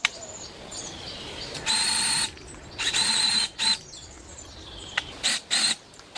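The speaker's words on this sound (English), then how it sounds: "After disinfecting the drill bit, I began drilling at the marked spots to the correct depth." Several short bursts of a power drill whirring at high pitch as it bores into a living tree in a forest, separated by pauses, with faint birdsong in the background.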